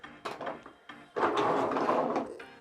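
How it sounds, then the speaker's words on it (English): Toy truck cab doors clicking open, a few short plastic knocks and scrapes followed by a louder sustained rustle of handling, close by and alone. "Doors open up."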